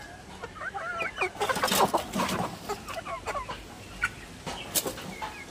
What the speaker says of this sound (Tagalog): Mayroon tayong pabo dito.